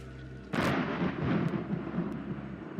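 Thunder from lightning in the horror video game Outlast, set in sewers: a sudden sharp crack followed by a long, deep rumbling roll that stays loud and heavy to the end.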